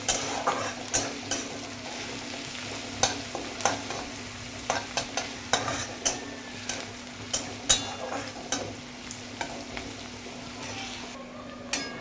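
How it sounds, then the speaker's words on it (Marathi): Crushed garlic frying in a pan for a Maharashtrian shevga (drumstick) curry, with an even sizzle broken by repeated sharp clicks and scrapes of a spoon stirring against the metal. "ठेचलेलं लसूण टाकायचं आहे. तिथून फ्राय करायचं थोडा वेळ"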